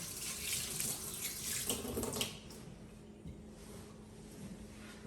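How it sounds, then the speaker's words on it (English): Hands rinsed under a running kitchen tap, a steady splashing water stream that drops to a quieter trickle halfway through, with faint clatter and no speech. "Let me just quickly wash my hands, rinse my hands real quick."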